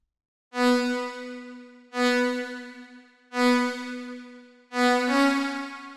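Four sustained Serum synthesizer lead notes, bright and buzzy with rich harmonics, each held about a second with short gaps between, loud and alone.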